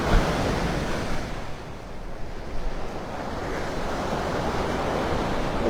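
Waves and surf wash steadily on Vanderbilt Beach in North Naples, Florida, a continuous broadband rush mixed with heavy wind buffeting the microphone. Nobody speaks.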